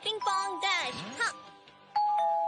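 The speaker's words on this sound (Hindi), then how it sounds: "लगता है ये टीवी से निकलकर हमारे घर भी घंटी बजाने आ गया" A two-tone doorbell chime rings out after a burst of lively, cartoonish voices and sound effects from a Shinchan cartoon in Hindi.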